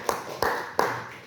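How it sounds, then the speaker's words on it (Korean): Three sharp, evenly spaced hand claps ring out in a church, each hit followed by a short reverberant decay. "박수 한번 쳐주세요."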